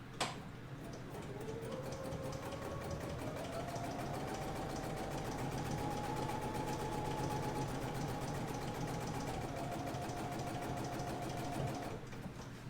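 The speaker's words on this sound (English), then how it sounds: "I'm going to go ahead and start sewing" A BERNINA sewing machine stitches in a steady, fast mechanical whir with rapid ticking, running evenly and close throughout.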